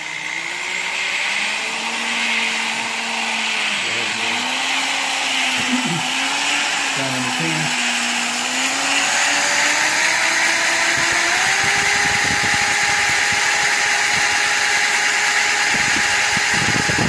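A blender mixes LiquiPowder, its motor whine starting low and steadily rising in pitch as it speeds up to high, loud and continuous throughout with no talking.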